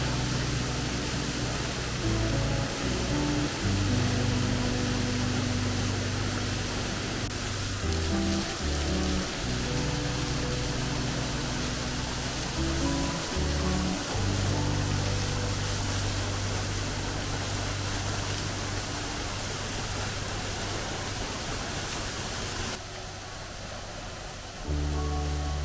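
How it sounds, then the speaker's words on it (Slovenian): Waterfall in a frozen, snow-covered gorge, heard as a steady broadband roar of falling water, loud and close throughout with some low rumbling and shifting, no talking. "tole je pa 4. slap."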